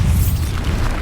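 The Bombarda explosion spell in the video game Hogwarts Legacy, a loud, deep booming blast with a rumbling low end, close and sustained over the whole moment.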